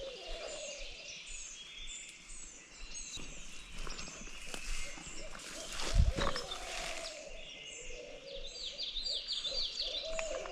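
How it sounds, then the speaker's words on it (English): Owls hoot repeatedly in the distance against a hissy outdoor background during a turkey hunt, with a brief louder bump midway. "Those owls don't give it a break once in a while."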